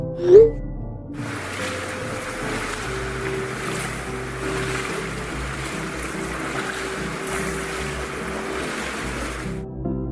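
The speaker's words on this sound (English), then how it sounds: "The water is moving. That's not normal pool water." Water in an eerie backrooms pool sloshes and churns steadily, a broad continuous wash with a brief knock at the start and the surface stirred from below.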